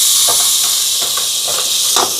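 Ginger garlic paste added to a pan of frying onions and green chillies, giving a steady loud sizzling hiss with soft crackling pops throughout, no voices.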